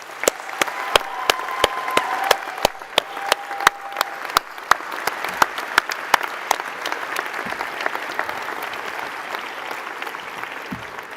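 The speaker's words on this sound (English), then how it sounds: "So let's give them a round of applause." Graduation ceremony audience applauding families and supporters: sustained, dense clapping from a large crowd, with sharp individual claps standing out over a steady wash throughout.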